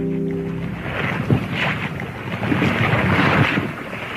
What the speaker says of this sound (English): Seagoon and Bluebottle travelled by sea.